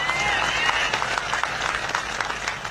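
Crowd applause at a political rally, dense continuous clapping and crowd noise at moderate loudness, with faint voices mixed underneath.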